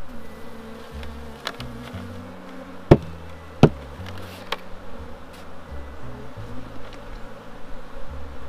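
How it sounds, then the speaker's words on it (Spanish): Honeybees hum steadily around an opened, strong hive being inspected, a continuous low drone with a couple of sharp clicks from handling the boxes. "También colmena con cantidad de abejas."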